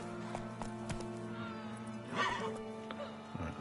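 A horse in The Witcher: Wild Hunt clip-clops along with repeated hoof strikes, then gives a loud whinny midway, set against a steady game music bed.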